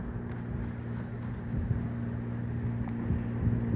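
A steady low engine drone with a strong hum from a 1948 16-foot wooden Chris-Craft Special Runabout motorboat running nearby, with some wind noise over the microphone.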